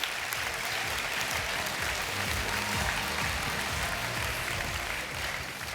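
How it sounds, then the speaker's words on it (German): Sustained applause from a conference audience in Frankfurt fills the room, a dense, steady wash of many hands clapping at even loudness throughout with no voice standing out. "let's give them another big hand for being here"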